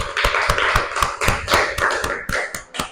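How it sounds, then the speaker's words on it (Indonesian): Students clap together in a classroom, a sharp unison round of separate, evenly spaced claps close by, about a dozen strokes in a steady rhythm. "Tepuk tangan dulu semuanya."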